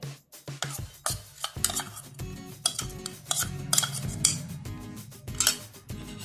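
Repeated rhythmic scraping and tapping as soaked semolina with ghee and milk is mixed into flour on a plate for the Goan sweet kalkal, close and fairly busy throughout, with no talking.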